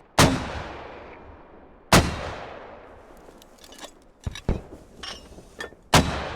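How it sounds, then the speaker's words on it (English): Canadian mortars firing in a large-scale online war game, three loud sharp blasts spaced a couple of seconds apart, each with a long decaying tail, and a few fainter distant shots between them. "Here we have the mortars for the Canadians"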